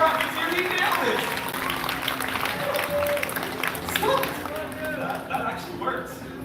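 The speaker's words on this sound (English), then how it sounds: "Round of applause for our rockets here." Crowd applause at Disney's Animal Kingdom, with steady clapping and cheering throughout, voices mixed in over the noise.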